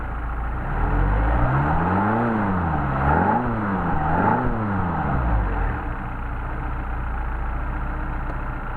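A Mercedes 190SL engine fitted with a Solex 44PHH carburetor runs steadily up close, its revs rising and falling in a few smooth waves before settling into an even, loud drone with no talking.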